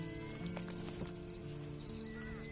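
A horse in the video game Red Dead Redemption 2 snorts and steps with soft hoof clops. It sits close and steady under a constant tonal game ambience, with no talking.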